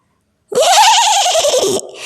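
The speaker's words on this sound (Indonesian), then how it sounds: "Nabi Idris pun menghentikan jalannya kuda-kuda itu tadi." A horse gives one loud, close whinny lasting just over a second, its pitch wavering and falling away, in a story scene about the Prophet Idris halting his horses.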